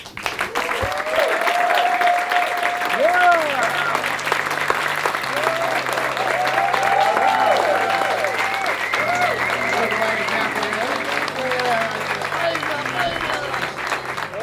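A studio audience at a talk show gives a sustained round of loud, close applause that lasts the whole stretch, with low music tones underneath.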